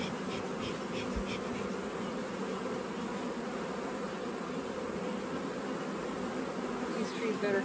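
Honey bees buzz steadily at a hive in early spring as snow melts, a dense continuous drone filling the whole stretch at an even, close level.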